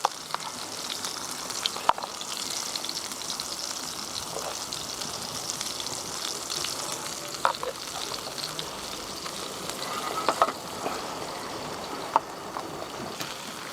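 A smash burger frying over an open fire gives a steady, soft crackling sizzle with scattered pops, continuous and even for the whole stretch with no voices.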